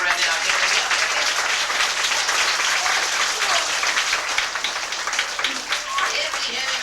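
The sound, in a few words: audience applause at library show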